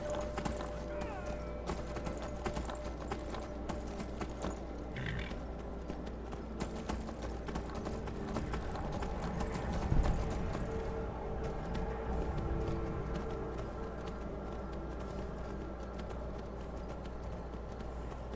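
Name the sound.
horse hooves clip-clopping in Skyrim, video game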